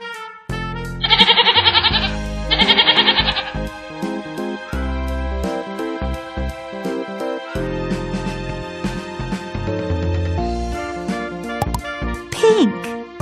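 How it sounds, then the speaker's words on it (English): A goat bleats in a children's educational song, its wavering cry rising twice over bright synthetic music, loud and close, with a child-like voice naming animals and colours. "Goat."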